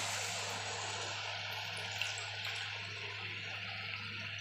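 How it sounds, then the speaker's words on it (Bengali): A steady stream of water pours into a pan of oil-fried spice paste for an egg curry, a continuous close hiss and trickle over a low hum, with no talking. "এবার আমি পরিমাণ মতো জল দিয়ে দেবো।"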